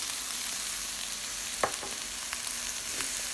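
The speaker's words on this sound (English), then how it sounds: "we're going to cook this until the cabbage is limp" Shrimp fried rice with cabbage and soy sauce frying in a pan, a steady soft sizzle with a few brief stirring clicks and scrapes, close and alone without talk.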